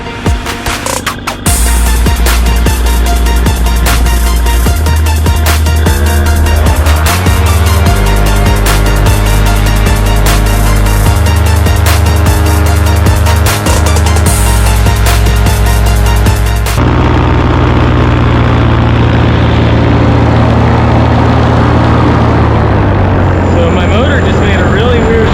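Paramotor engine and propeller running steadily during a powered paraglider flight after a propeller repair, a loud continuous drone with shifting pitch as throttle changes, lowering noticeably toward the end.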